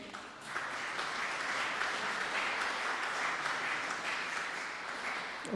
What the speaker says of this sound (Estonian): Aplaus!